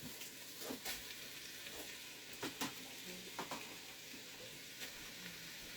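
Chopped onions frying in rendered Italian sausage grease in a pot for Zuppa Toscana soup, a continuous close sizzle broken by a few sharp scraping stirs of a spoon.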